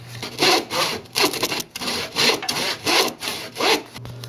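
A hand saw cuts dado scores across a 2x4 for bike stand joinery, giving close, steady back-and-forth rasping strokes of about eight pulls in a rhythmic sequence with no talking.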